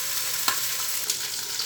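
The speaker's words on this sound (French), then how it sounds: "il y a le gras qui saute un petit peu en l'air" Chicken legs frying in a pan with fat spattering, a steady close sizzle with a few sharper pops rising above it, no voices.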